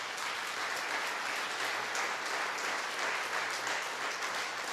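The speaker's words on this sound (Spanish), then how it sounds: "Denle un aplauso, Señor." Steady, dense applause from a church congregation during a sermon, a continuous wash of many hands, fairly distant and even in level throughout.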